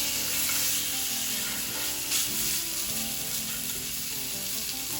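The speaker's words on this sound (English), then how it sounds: "Now you should hear quite a noise when you put this in the pan, a sizzling noise." Pork tenderloin searing in a very hot pan gives a steady, loud, close hiss of sizzling fat that holds without a break, alone with no talking.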